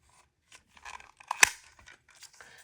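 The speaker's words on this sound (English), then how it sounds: "then I will cut it to the right height" A few soft snips, then one crisp, sharp cut as scissors trim paper to height for a mini folio made from an 8.5 x 11 sheet, close and quiet with brief gaps between.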